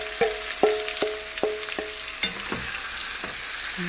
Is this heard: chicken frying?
yes